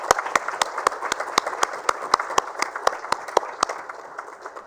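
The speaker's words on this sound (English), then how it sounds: "Ladies and gentlemen, let all of us give a big round of applause to those who have achieved that distinction this year." At a sanitation awards ceremony, sharp, evenly spaced claps ring out in a quick steady rhythm over a softer bed of scattered audience clapping, with no one speaking.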